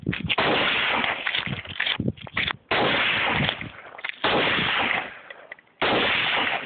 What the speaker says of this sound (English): That gun is so loud.